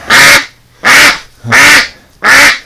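An injured duck with a badly swollen leg quacks four times in a steady rhythm, each call loud, harsh and close, with short quiet gaps between them and no talking.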